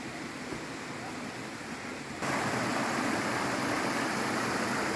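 River water flows in a wide, round pool sitting just above a waterfall on a forest hiking trail, a steady broadband rush that grows noticeably louder and fuller partway through, continuous and close with no voices.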